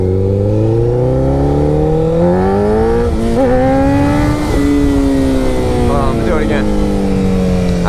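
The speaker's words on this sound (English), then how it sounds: "And then you let off the gas, and then you crack the throttle again, and to pop the front end up." Motorcycle engine revving as the throttle is cracked open for a wheelie, pitch climbing steadily then easing off and rising again, loud and close with brief extra rasping bursts.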